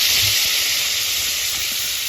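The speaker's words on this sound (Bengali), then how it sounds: "সিমটাও আমি হালকাভাবে ভেজে নেব" Flat beans (shim) frying lightly in oil in a pan alongside lightly fried potatoes, producing a loud, continuous hiss and sizzle that holds steady with no voices.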